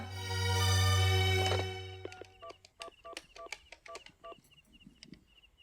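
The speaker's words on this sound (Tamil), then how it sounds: "அந்த இன்ஸ்பெக்டருக்கு ஃபோன் பண்ணலாம் இல்லையா?" A telephone dial tone hums steadily for about two seconds, then a quick series of distinct push-button keypad beeps dials a number, in a scene from a classic Tamil television serial.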